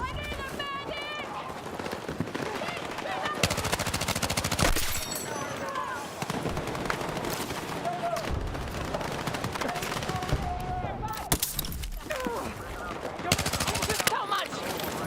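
Gunfire in the video game Battlefield 6 arrives as repeated bursts of automatic fire and single shots, loud and close, with footsteps and other action noise between them.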